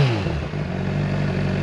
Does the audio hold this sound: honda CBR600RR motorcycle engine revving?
yes